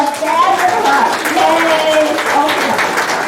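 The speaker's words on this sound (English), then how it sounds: "Can you give a round of applause to Sylvia?" A congregation applauds during a Sunday service at Unity of London church, a short, steady burst of clapping and crowd noise from the room with voices mixed in.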